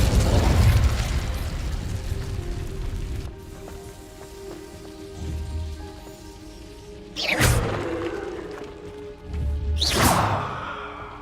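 A fire spell cast in the game Hogwarts Legacy, heard as two sharp whooshing bursts with a crackling flare, standing out over a steady game ambience and music bed.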